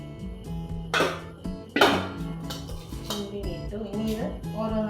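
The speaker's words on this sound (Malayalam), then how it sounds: "ഇനി ഞാൻ ഇതിനകത്തേക്ക് ഇട്ടിട്ട് ബാക്കി കഷ്ണങ്ങളൊക്കെ കണ്ടിട്ട് ഉള്ളി ഇട്ടു." Onion and vegetable pieces dropped into a pressure cooker, bursts of clattering metal and knocking of pieces against the pot, a few distinct clanks close by, with soft background noise.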